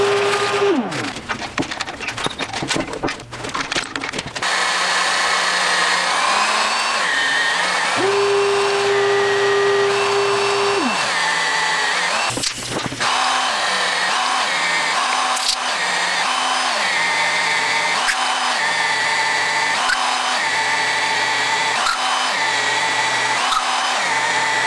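A half-inch drill bores through a thick cast iron fabrication table, a steady loud grinding whir running continuously with brief pitch shifts and a short motor spin-down partway through, no talking.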